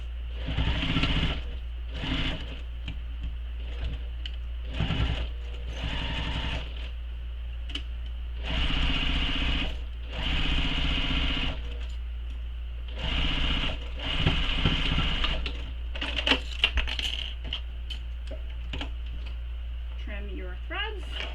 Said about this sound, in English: I'm just machine stitching it